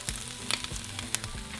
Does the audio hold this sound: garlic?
yes